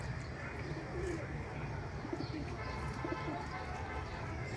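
Sialkoti high flyer pigeons coo softly at mid distance, with repeated low murmuring calls over a faint outdoor background and light chirps.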